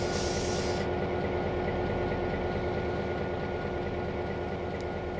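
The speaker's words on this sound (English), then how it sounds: "These locomotives look and sound a little bit like Alcos, but they're not." EMD-based diesel locomotive in Trainz 2022 on the Australian Orbost route, a steady loud engine drone with a low rhythmic throb throughout, no gaps.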